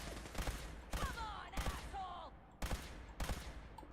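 Gunfire in the Fallout 4 video game: several short, sharp shots in separate bursts spread across a few seconds, loud against a steady background with faint game sound between the shots.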